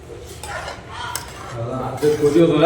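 Metal utensil scraping and clinking against a pot as mixed vegetable sambar is stirred, irregular and close, with a voice talking over part of it.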